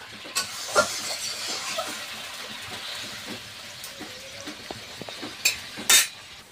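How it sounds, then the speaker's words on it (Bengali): A pot of curry simmers and bubbles on the stove, giving a low steady hiss with scattered soft pops and a few sharp clinks of a utensil against the pot near the end. "তরকারিটা ফুটে উঠেছে"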